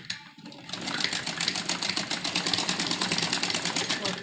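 A sewing machine stitches a V-shape umbrella frock in a fast, even run of needle strokes after a short pause, close and loud and steady throughout.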